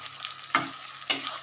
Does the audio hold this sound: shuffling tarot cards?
no